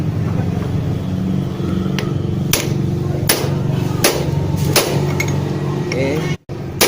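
A pipe taps a worn front gear shaft back into a small step-through motorcycle with a series of sharp metallic knocks at an irregular pace, close by, over a steady low rumble.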